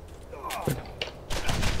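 Gunfire in the video game Borderlands cracks out in several quick shots and a denser burst near the end, heard at moderate distance in a firefight.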